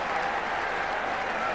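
Cricket crowd applauding Kapil Dev's sixes for India, a steady, dense wash of clapping and cheering that fills the whole stretch without a break, with voices mixed into the din.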